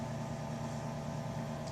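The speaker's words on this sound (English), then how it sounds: "which I'm going to melt in the microwave" A microwave oven hums steadily while melting a stick of butter, a constant low drone at an even, quiet level throughout, with no talk.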